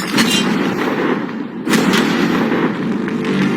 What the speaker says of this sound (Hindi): पहला शॉट फायर करो।